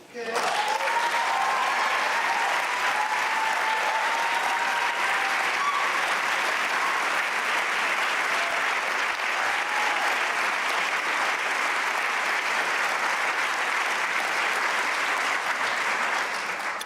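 Sustained applause fills the hall at a state of the state address by the Wisconsin governor, a dense, loud wash of clapping that holds steadily for the whole stretch while a voice speaks briefly beneath it.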